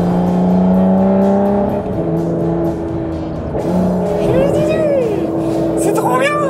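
An Aston Martin V12 engine revving, loud and close, with a sustained tonal drone that dips and climbs again as the revs rise toward the end.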